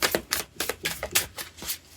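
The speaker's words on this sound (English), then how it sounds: "Okay, 2 more shuffles" Tarot cards are shuffled in a quick run of soft riffling bursts, close and fairly quiet, with no talking.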